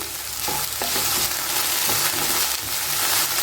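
Salted okra fries in a pan with a dense, constant sizzle, broken by a few soft scraping stirs, close and fairly loud with no talking.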